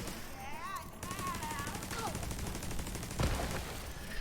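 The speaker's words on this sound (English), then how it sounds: "Go to work, my turret friend." An automated turret in a shooter video game fires a rapid, sustained burst of gunfire, dense rattling shots under game effects, with a voice speaking over the action.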